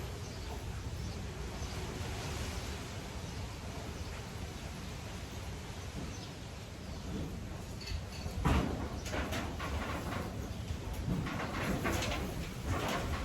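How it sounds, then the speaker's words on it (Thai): Wind blows steadily across corrugated zinc roof sheets, a continuous broadband rush with a few sharper rattles and clanks of metal in the latter half. "เสียงลมเสียงสังกะสี"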